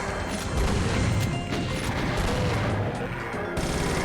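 Shotgun blasts and gunfire in Doom II against enemies, dense continuous loud bursts and crashes layered over game noise, heard close with no pauses.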